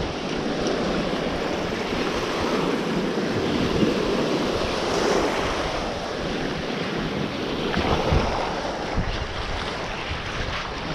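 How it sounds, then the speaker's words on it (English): Ocean surf breaking on the beach at Fort Morgan, Alabama, a dense continuous wash of crashing waves with heavy wind buffeting the microphone throughout, loud and steady with no clear pauses. "Ollie, are you trying to bite the waves?"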